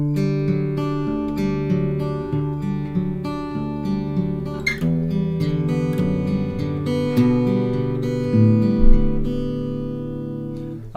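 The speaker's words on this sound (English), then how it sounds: "So when we put together the measure 1 and 2, sounds like this" Fingerpicked acoustic guitar playing the opening two measures of a song, a steady rolling pattern of plucked notes over a thumbed bass, close and unaccompanied with no voices.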